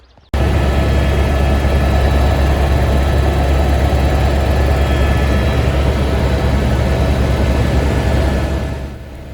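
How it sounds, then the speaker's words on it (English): A helicopter's steady, loud engine roar and rotor drone fills the whole recording, constant throughout and fading slightly at the very end. "off I went on the helicopter, which is amazing"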